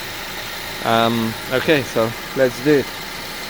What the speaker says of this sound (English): it's been idling for more than 15 minutes now